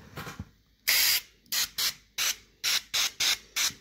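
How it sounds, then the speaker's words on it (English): Canola or vegetable oil cooking spray coats a turkey in a series of short, close hissing bursts: one longer spritz, then about eight quick rhythmic sprays with brief pauses between them. "give it a nice little coat of cooking spray"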